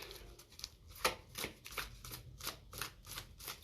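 Oracle cards being shuffled by hand, a quick run of soft, crisp riffling bursts in an irregular rhythm, close and fairly quiet, with no voice.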